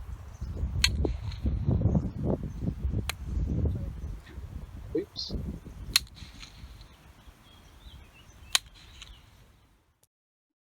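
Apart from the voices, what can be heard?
wooden blocks clapped outdoors, followed by muffled echo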